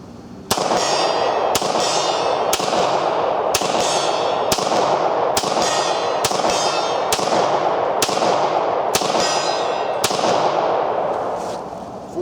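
A Beretta 96 FS pistol firing .40 rounds: about eleven loud, sharp gunshots in a steady, evenly spaced rhythm, each ringing out over a continuous background roar.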